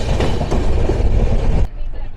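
The 12704 Falaknuma Express passing at Kalupara Ghat station, a loud, close, steady roar of wheels and carriages that cuts off abruptly near the end.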